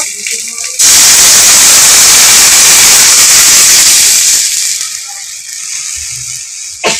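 Jute leaf broth is poured into a hot pan, bursting into a loud, harsh hiss of steam and sizzling that slowly fades over several seconds and then drops to a faint crackle.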